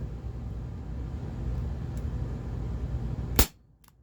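A constant outdoor hiss gives way to a single sharp, loud shot from a CZ 75 P-07 Duty 4.5mm airsoft pistol near the end, followed by quiet.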